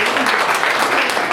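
Congregation clapping for a retiring pastor, a dense continuous wash of hands at close range with no pause.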